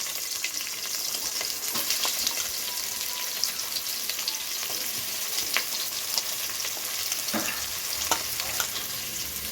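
Three medium onions, sliced lengthwise, fry in a pan for biryani, giving a steady close sizzle with occasional stirring clicks throughout, no talking.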